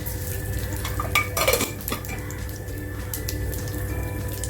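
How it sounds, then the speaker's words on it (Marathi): Cumin crackles and sizzles briefly in hot oil amid clinking of a utensil against a pan, over a steady background hum. "तेल बघा छान तापलेलं आहे थोडंसं जिरं टाकते"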